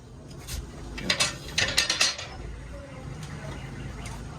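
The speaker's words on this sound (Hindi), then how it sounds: "तो नट खोल के हम इसको निकालेंगे।" A ratchet loosening a nut to remove a car's hard shock absorber: a short burst of quick metallic clicks near the middle, close and moderately loud over a faint background hum.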